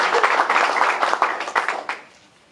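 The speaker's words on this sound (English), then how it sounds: "I think they need a round of applause" Round of applause from an audience at a clubhouse launch celebration, dense steady clapping that thins out and fades over the last half second.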